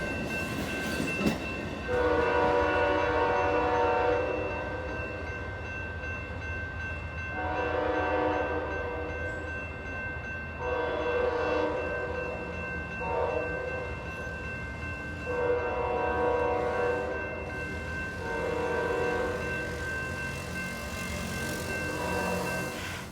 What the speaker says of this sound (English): we have Amtrak Capital Corridor heading southbound on track 1